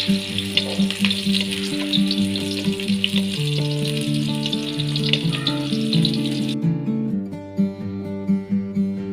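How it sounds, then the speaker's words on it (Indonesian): Shallots sautéing in a pan, a close, steady frying sizzle with stirring scrapes, beneath a loud droning hum that runs through the whole stretch. "masukkan juga bawang merah, kita tumis sampai bawangnya harum."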